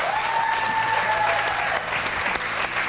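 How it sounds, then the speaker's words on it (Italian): Sustained studio audience applause at a televised Italian football show, dense steady clapping from a crowd throughout. "l'applausometro del pubblico deciderà chi ha vinto"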